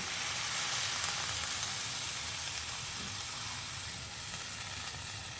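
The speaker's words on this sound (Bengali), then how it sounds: "তারপরে একটু সামান্য পরিমাণ আমি জল দেবো জল দিয়ে এটাকে সেদ্ধ করতে দেবো দশ মিনিটের মতন" Prawn curry with taro, pumpkin and Malabar spinach cooking in a pot after a little water is added, a dense continuous hiss and bubbling sizzle, close and steady, with no talking.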